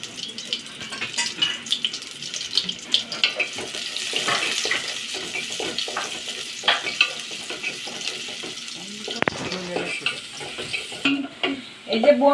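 Cumin seeds, chopped onion and garlic frying in oil, a steady close sizzle with scraping stirs and occasional clinks, running alone without talk.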